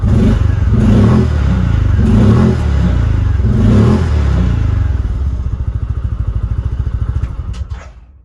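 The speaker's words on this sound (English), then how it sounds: "I'm going to rev it up a little bit." A 2022 Kawasaki Mule PRO-MX utility vehicle's small engine revs up in a few loud surges, rising and falling, then drops back to a steady idle before cutting off.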